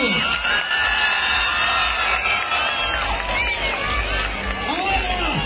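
A loud crowd at a Tinku and Takanakuy festival cheers and shouts continuously with a steady roar, whoops rising over the din and voices calling out throughout.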